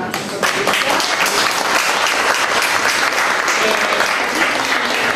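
Loud, dense audience applause for a professor at a community event in Bova Marina, continuous clapping that stays strong throughout.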